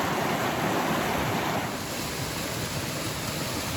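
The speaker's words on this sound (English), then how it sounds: "That water's really moving." Loud, steady rushing of a rain-swollen creek on the Appalachian Trail in southern Virginia, a continuous broad roar close by that barely changes from start to end.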